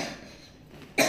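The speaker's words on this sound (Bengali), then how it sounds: "আর আমার ছেলেটার না একটু কাশি হয়েছে" A young boy with a cough gives a single short, sharp cough near the end, after a second of quiet room tone.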